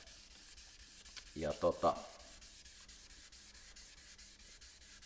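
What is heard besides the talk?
sanding a 1982 Porsche Targa with 1500-grit sandpaper on a sanding block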